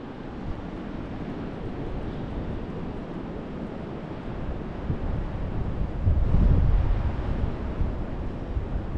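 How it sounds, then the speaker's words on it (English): Steady broadband rush of ocean surf and wind at high tide in Atlantic City, with a swell of louder wave wash building briefly near the end, no voices. "The waves are coming in."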